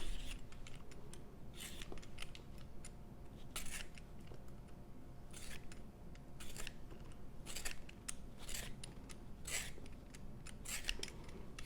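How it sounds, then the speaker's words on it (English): A daikon radish being peeled with a hand peeler, a string of crisp rasping strokes at an irregular rhythm, close and fairly quiet, with no talking. "what we're going to do is peel our radish"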